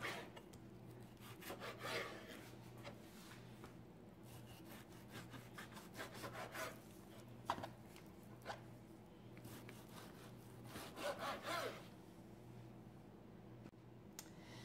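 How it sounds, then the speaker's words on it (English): A knife slices through a slab of raw pork fat, cutting it into strips for grinding and rendering into lard, with soft scraping strokes repeated steadily, faint and close over a low steady hum. "I've got this slab of fat sitting here, so I'll just cut it up into strips"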